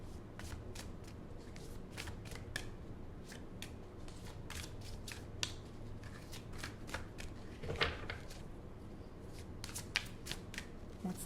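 Tarot cards are shuffled close by, quiet crisp riffles and slaps repeating in quick irregular bursts with no talking.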